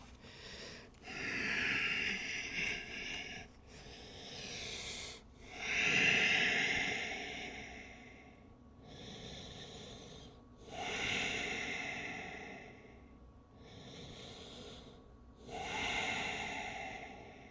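Slow, deep breaths during a forward-fold stretch, close and alone, with long airy inhales and exhales alternating with quiet pauses.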